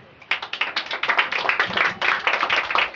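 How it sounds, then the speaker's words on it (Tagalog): Audience clapping at a cooking contest judging session: loud, close clapping from a small group that starts abruptly and continues as a dense, uneven patter of individual claps. "Palakpak naman."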